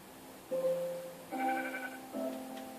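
Three separate video game sheep bleats in quick succession, clear and fairly close, with a faint steady background hum and no speech.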